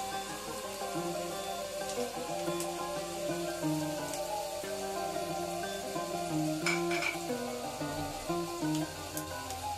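Chopped onion and garlic frying in oil for a red spinach stir-fry, giving a steady, continuous crackling sizzle that runs the whole way through over a soft tonal backdrop, with no talking.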